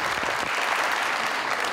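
Studio audience on a Pakistani television talk show clapping loudly and continuously, a dense unbroken wash of applause with no voices on top.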